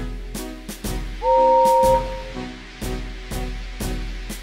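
A steam locomotive pulls away, with sharp chuffs of exhaust steam at a slow, irregular beat and a brief two-tone whistle blast early on, close and alone over a low rumble.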